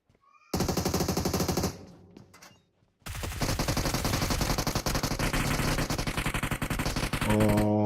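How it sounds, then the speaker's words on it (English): Gunfire in a competitive video game match, with loud sustained automatic bursts battering a player, a short gap, then a long unbroken stream of rapid shots close up. "Fury getting bombarded with the bullets there."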